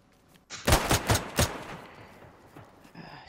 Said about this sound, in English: I'm waiting for the gunshots.